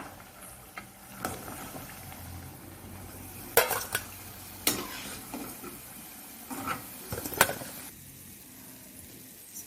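Urad dal vadas frying in oil over a medium flame, a soft steady sizzle broken by several sharp metal scrapes and clinks of a ladle against the pan.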